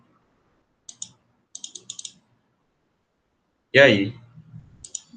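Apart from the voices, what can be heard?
mouse clicking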